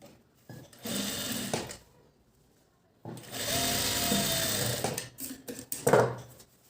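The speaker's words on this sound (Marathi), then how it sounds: "बाहीला आपण थोडीशी शिलाई मारून घेणार आहोत" A sewing machine stitches a blouse sleeve seam in short bursts: a run of whirring stitches, a pause, then a longer steady run and a final brief burst, close and alone.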